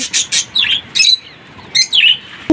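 Small birds chirp on a rooftop in Chennai, a series of sharp, close, loud bursts of tweets separated by brief quiet gaps.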